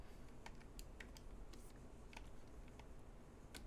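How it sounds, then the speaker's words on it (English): Quiet, irregular clicking of computer keyboard keys being typed on at a desk, a handful of light taps scattered over a few seconds against a low background hiss. "Can you guys hear the clicking from my keyboard?"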